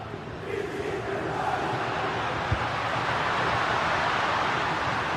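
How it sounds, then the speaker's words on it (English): A stadium crowd in a football video game roars in a broad, steady wash of cheering, fairly faint and distant, with a single thud partway through. "the crowd are looking to really give the players a boost"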